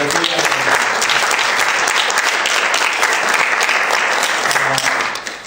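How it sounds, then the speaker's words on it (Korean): A church congregation bursts into sustained, dense applause to welcome a visiting pastor and his wife, the clapping steady and loud throughout before tapering at the very end. "우리 박수로 환영하겠습니다."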